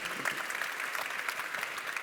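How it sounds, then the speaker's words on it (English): An audience at a manufacturing forum applauds the speakers after a panel conversation. The clapping is steady and fairly faint, with a dense patter that continues without a break. "And a round of applause to our speakers."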